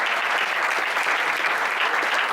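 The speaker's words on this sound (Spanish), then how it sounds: "Un aplauso para..." Loud, steady applause from a room full of people at a public forum on immigration in Chile, continuous clapping with no speech.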